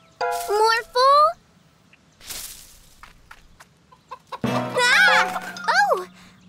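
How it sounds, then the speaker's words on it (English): Cartoon chicken in a corn maze clucking in bright, squawking bursts, several calls near the start and a louder run near the end, with a voice and other cartoon sounds between them. "Ah, hello, chicken."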